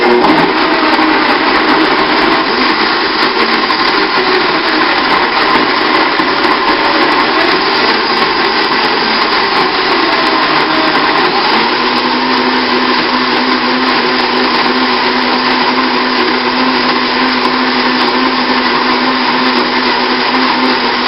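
A blender runs loud and steady for about twenty seconds, blending a garlic, salt and flax seed mixture for homemade pita chips, with a continuous whirring motor and no pauses.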